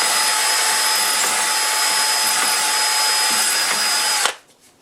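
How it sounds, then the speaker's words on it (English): A power drill whines steadily at close range for about four seconds, cleaning out the holes of a drilled brake disc on a Porsche 911 996 Carrera 4S without removing metal, then cuts off abruptly into near silence. "Rotate, drill and rotate"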